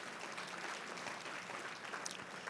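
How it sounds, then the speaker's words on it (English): Faint, steady applause from a gala audience after a speech, a soft wash of many hands clapping that stays even for a couple of seconds. "Yes, you can give a round of applause."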